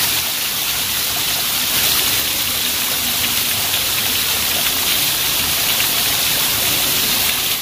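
A steady stream of hot water at a spa in Copán, a continuous splashing rush that stays loud and even from start to finish with no talking.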